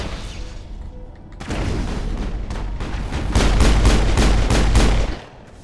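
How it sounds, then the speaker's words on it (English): Loud bursts of rapid gunfire in the sci-fi shooter Mass Effect, a dense volley that swells into repeated heavy shots before cutting off near the end. "Shoot the guy right next to you"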